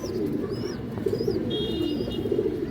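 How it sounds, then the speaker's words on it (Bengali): A large, restless female pigeon with a boot-shaped beak coos in low, throaty bursts close by, repeated several times, while other birds chirp thinly in the background. "একটা সবজি মাদি কবুতর বড় সাইজ"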